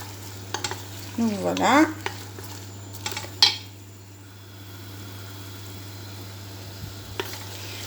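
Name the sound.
onions frying in olive oil and butter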